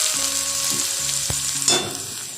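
Chopped ginger drops into hot oil already holding dried red chillies, five-spice seeds and melted sugar, making a loud, steady close sizzle with one brief utensil tap and no voices.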